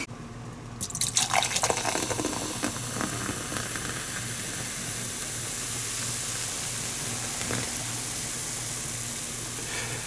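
Lotte Mart cola soda is poured into a glass with a quick splashing gush that settles into a steady fizz of popping bubbles lasting several seconds, close and fairly quiet.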